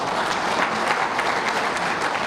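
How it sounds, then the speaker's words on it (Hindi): Steady, dense applause from a large crowd at a political rally in Jharkhand, continuous and loud throughout with no pauses. "एक बार ताली बजाओ पोलिंग एजेंट के लिए भी"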